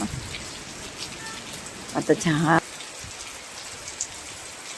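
Steady hiss of heavy monsoon rain falling in Konkan, India, with a brief burst of nearby talk partway through.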